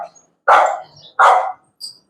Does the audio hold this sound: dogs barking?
yes